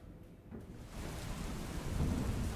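Rain with rolling thunder during a monsoon spell over Songadh taluka in Tapi district, Gujarat, a low rumble swelling steadily beneath a dense, continuous wash of rainfall, with no voices.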